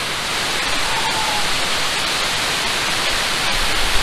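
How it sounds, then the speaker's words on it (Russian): The huge Kapuzbashi waterfall roars in a steady, broadband rush while wind blows spray around, loud and unbroken, with no voices. "Ветер дует, и морось такая летит с водопада."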